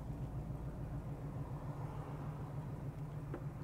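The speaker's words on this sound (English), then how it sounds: "Idle's real nice. It's not popping through the exhaust." A 1967 Pontiac GTO engine idles in a steady, low rumble, smooth and even with no sputtering or exhaust popping, heard close by and on its own.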